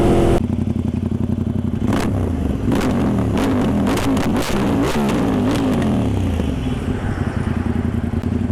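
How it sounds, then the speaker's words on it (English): A superbike engine roars loudly and steadily close by, with revving surges and rattling clatter layered over the deep exhaust drone. "That bike has seriously badass exhaust"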